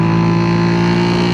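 Suzuki SV650 motorcycle pulling hard in fifth gear, a loud, steady engine drone with strong tonal hum and wind rush, close and continuous for a brief moment.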